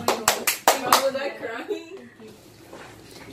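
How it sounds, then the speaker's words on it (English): Kids and friends clapping for the winner of a 2X spicy noodle challenge at home, a few sharp, close claps in the first second that quickly fade while children's voices chatter and talk over them. "Give her a round of applause, everybody."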